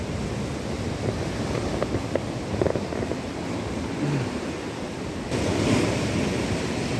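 Strong ocean waves crash hard against rocks on a Brazilian shore, a steady roar of churning surf with a louder surge near the end, close and wind-buffeted, with no talking.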